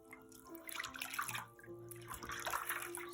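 Water splashing and trickling as feet are rinsed off during a home pedicure, close and moderately loud with steady sloshing and pouring over about three seconds, no talk.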